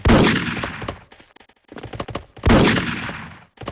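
Gunshots in a video game replay come in two loud bursts of rapid fire separated by a quieter gap of scattered clicks and pings, close and with no voices.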